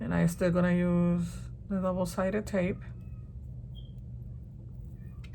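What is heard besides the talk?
cat meowing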